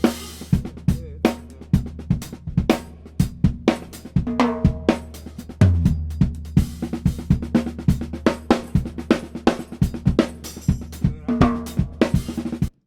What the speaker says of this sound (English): The drum kit was recorded in the booth at Studio 2 at East West